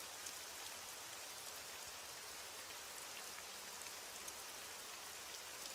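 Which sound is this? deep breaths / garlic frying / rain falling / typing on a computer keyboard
rain falling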